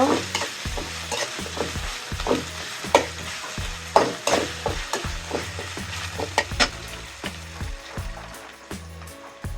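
Garlic paste frying in a pan with taro stolons, spoon stirring in steady rhythmic scrapes over a close, constant sizzle, loud and without voices.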